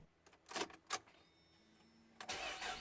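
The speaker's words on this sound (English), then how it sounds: "And now turn on the vehicle with the bad battery." Car with a bad battery being started after a jump start from a newer vehicle: a few clicks and clunks, a faint whine, then the engine cranks and catches into a steady idle, close.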